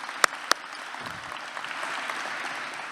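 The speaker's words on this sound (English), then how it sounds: "let's have a hand of applause for our fantastic student MCs" At an athletics championship breakfast, two sharp close claps ring out, then a softer, more distant spread of audience applause for student MCs rises and continues steadily.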